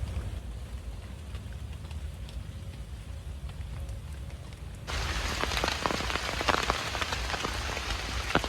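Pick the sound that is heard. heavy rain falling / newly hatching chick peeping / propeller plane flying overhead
heavy rain falling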